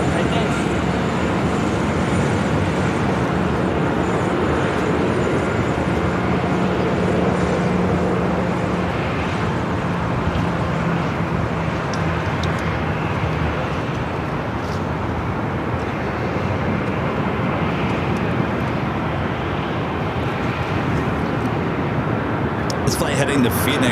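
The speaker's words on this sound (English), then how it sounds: "This flight heading to Phoenix, Southwest Airlines flight 117 at 737-800." A Southwest Airlines Boeing 737-800 airliner bound for Phoenix at LAX, heard as a loud, continuous broadband jet roar that holds steady throughout, with voices talking nearby.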